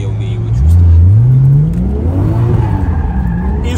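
A BMW car engine revs up and down in a rising, falling low drone, fairly loud and close, with some background voice and noise around it.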